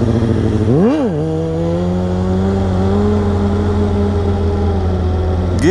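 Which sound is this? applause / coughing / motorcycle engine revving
motorcycle engine revving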